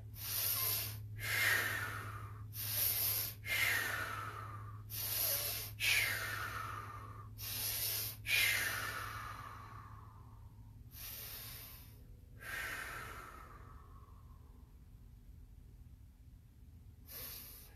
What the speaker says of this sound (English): what I'm doing is in through the nose, blowing out through the mouth. These are different pranayama breathing techniques